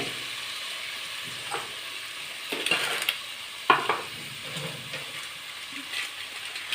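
Ginger garlic paste and masala sauté in a pan for kuska with a soft, steady hiss, while a spoon scrapes and clinks against the metal in scattered bursts.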